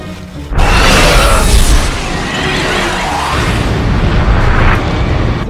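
A loud, sudden blast erupts and gives way to a long roaring rumble that keeps going, heavy and close, with no voices.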